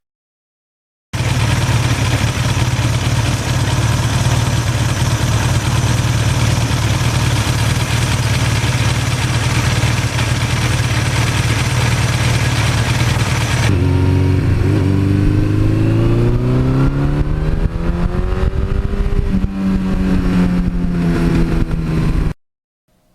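A 1982 Suzuki GS1100E with an 86 exhaust system idles with a steady, loud rumble, then the engine note rises and falls as the throttle is blipped through several revs before cutting off.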